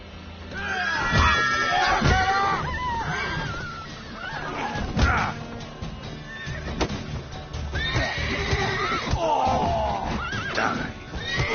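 Horses whinny and neigh repeatedly in shrill bursts amid clattering, thuds and chaotic action noises, with voices mixed in, in the video game The Witcher 3.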